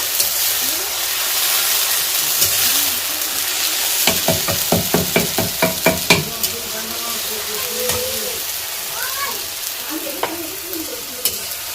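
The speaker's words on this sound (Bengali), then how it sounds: "ভালো করে এটাকে একটু তেলে কাঁচা গন্ধটা চলে যাওয়ার জন্য নেড়ে নেব।" Ginger, garlic and green chili paste sizzles in hot oil in a pot over a wood-fired clay stove for a chicken curry, with a burst of rapid scraping stirs in the middle and steady frying hiss throughout.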